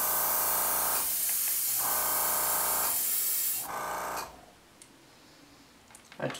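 Airbrush spraying thin paint onto a crankbait fishing lure in a firetiger finish, two sustained loud hissing bursts followed by a third shorter one, then near-quiet with faint clicks.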